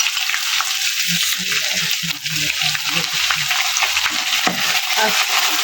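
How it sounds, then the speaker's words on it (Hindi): Ginger garlic paste fries loudly with browned onions in a pot, giving a steady dense sizzle with stirring sounds and faint low background noise throughout. "अब हम अदरक लहसुन का पेस्ट डालेंगे 2 चम्मच"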